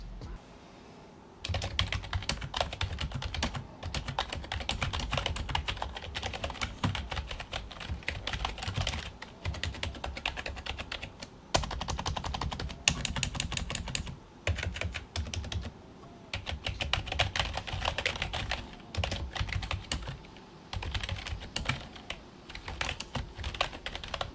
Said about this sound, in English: Let's do a quick keyboard test so you guys can hear what these keys sound like.